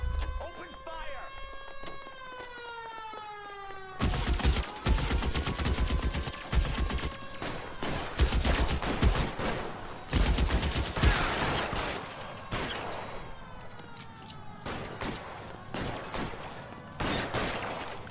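A video game shootout in L.A. Noire: dense, loud bursts of rapid gunfire and scattered single shots fill most of the stretch, with a siren wailing at the start and again near the end, while voices call out.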